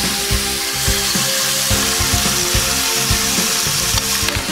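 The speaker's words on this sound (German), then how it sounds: "Jetzt braten wir die Rippchen an, müssen wir nach und nach reintun" Pork ribs sear in a frying pan, a loud, continuous sizzle and crackle of meat in hot fat running steadily throughout, with occasional clunks from the pan.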